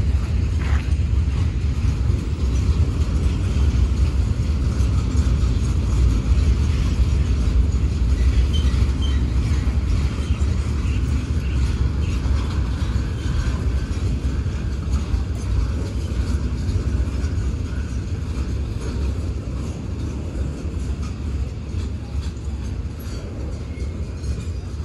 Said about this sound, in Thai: อัน นี้ก็เป็นขบวนรถธรรมดาขบวนที่201นะทุกคน